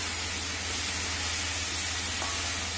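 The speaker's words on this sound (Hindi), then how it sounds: "इसे हम डालने के बाद जो है हल्का सा भून लेंगे।" Ingredients for batata vada lightly frying in a pan produce an even, soft hissing sizzle that stays constant throughout, with no voices.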